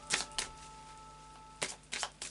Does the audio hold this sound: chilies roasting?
no